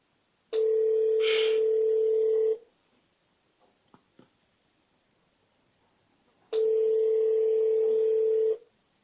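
A telephone call rings out: two long, steady tones about two seconds each, separated by several seconds of near silence with a few faint clicks, loud and close like a ringback heard through the handset.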